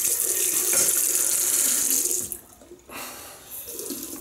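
Water runs steadily from a tap with a bright rushing hiss, briefly cut off mid-way, then flowing again more softly.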